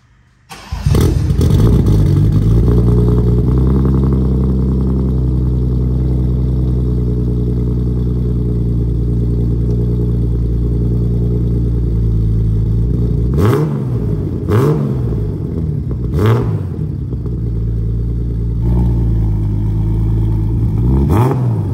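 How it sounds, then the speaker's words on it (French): A BMW E30 engine roars close by with a sustained rumbling idle, then revs up sharply several times in quick surges before settling back. "j'aimerais entendre juste le bruit du moteur. Le bruit, Le bruit du moteur. le vacarme."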